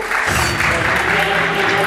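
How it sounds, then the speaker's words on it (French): Brief burst of audience applause for the winning blue team at a live game event, loud and close, with a voice or music tone running underneath. "Applaudissements s'il vous plaît."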